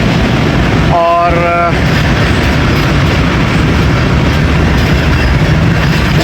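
The Baba Fareed Express halts on the Walton main line, with continuous loud rail rumble and clatter and a short squeal of brakes or wheels near the start.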